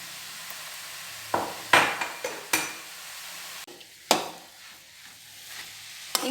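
Beetroot frying and being stirred in a pan, with scattered clanks and scrapes of a utensil against the metal over a soft sizzle, close and without talk.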